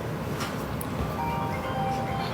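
A phone ringtone plays as a melodic electronic tune, partly buried in steady background noise in an indoor room.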